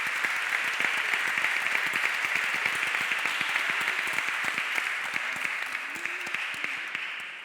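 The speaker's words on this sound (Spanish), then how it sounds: "Muy bien, Gemma, un aplauso" Audience applause after a talk on the green and circular economy, a steady, moderately loud patter of many hands in a hall that slowly fades toward the end.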